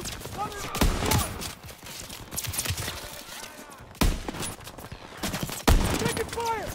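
Gunfire in the World War II shooter Call of Duty WWII, scattered sharp shots and bursts under a busy battle mix, with soldiers shouting throughout.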